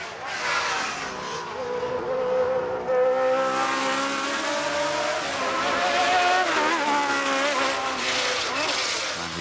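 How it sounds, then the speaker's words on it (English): A Lotus 88 twin-chassis Grand Prix race car screams past at high revs at the Festival of Speed, engine pitch climbing and shifting through gears, loud and continuous with a faint tire squeal. "Can Dan Collins get this radical Lotus 88 twin chassis Grand Prix car under the 50-second mark?"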